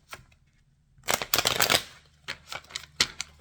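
Stiff, nearly new tarot cards are shuffled by hand in short bursts of riffling and flicking, with a longer shuffle in the middle. The sound is close and crisp, with quiet pauses between the bursts.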